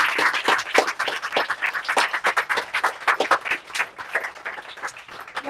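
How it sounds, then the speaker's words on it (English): Audience applause at a live book event fills the room, a dense, steady wash of many hands clapping at close range, holding strong throughout before easing slightly toward the end. "Let's give Rax another round of applause."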